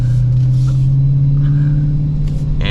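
A new Dodge Charger SRT Hellcat Widebody rounds a turn at modest speed, giving a steady, loud low engine drone with road rumble throughout and no talk.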